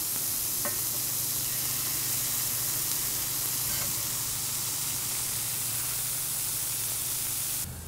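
Eggs frying on a griddle, a steady broad sizzle with a hiss like static that continues evenly, with a couple of faint clicks and a brief tap at the very end.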